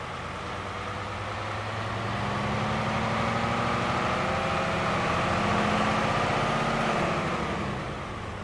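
A DAF XF truck's MX-13 engine, with a modded sound pack in a driving video game, runs with a steady low diesel drone that swells and then settles, loud and close, with no one speaking.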